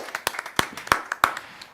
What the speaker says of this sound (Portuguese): Paulinho e Eliel merece uma salva de palmas da gente aqui